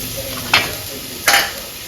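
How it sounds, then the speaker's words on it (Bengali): Food sizzles in a pan during Bengali home cooking, a steady hiss broken by two quick scraping strokes of a stirring spoon about a second apart. "এটা ভাজা হয়ে গেছে, পালং শাক দিয়ে দেবো।"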